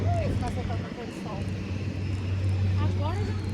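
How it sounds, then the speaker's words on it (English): A seaplane taking off over a city harbour waterfront produces a steady low propeller drone throughout, with gulls or other birds chirping faintly nearby. "look, there's a seaplane taking off"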